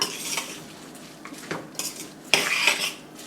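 A spoon stirs sprouted moong, tomato, salt and rice in a pot, scraping and clinking against the metal in a few uneven strokes. The sound is close, with no talking.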